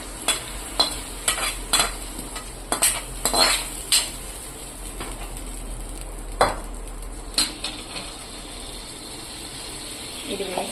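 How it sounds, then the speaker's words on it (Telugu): Spoon stirring a tadka tempering into a yogurt curry (perugu charu) in a metal pot, with repeated scraping and clinking strokes close by over a faint sizzle, no voices. "ఇప్పుడు ఇందులోకి మనం తాలింపు వేసుకున్నాం కదండి"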